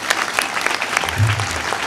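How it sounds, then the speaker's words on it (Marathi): Applause from a kirtan audience at a devotional gathering in Erandi, Ausa, a dense steady patter of many hands clapping together for about two seconds, with some voices faintly mixed in. "बाकीच्या वाजवा, जोरात टाळ्या वाजवा"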